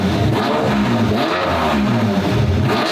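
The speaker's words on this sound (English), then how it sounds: "The first startup, you guys, with the new custom Pro Muffler exhaust." A car engine revs hard through a new custom Pro Muffler exhaust, deep throaty pulses rising and falling in quick bursts, close and dominant.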